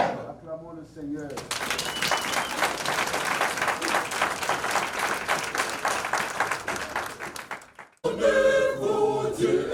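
A church congregation at a Sunday service breaks into dense, sustained applause that cuts off abruptly, with a voice speaking before and after the clapping.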